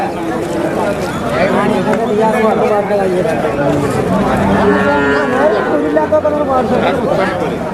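Cattle and buffaloes, mostly buffaloes, moo and low repeatedly up close over the constant chatter of a crowd at the busy Pollachi livestock market.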